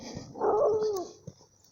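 A boxer and pitbull mix dog gives a short, close growl rising into a whiny, tonal snarl, followed by a brief soft sound and quiet background.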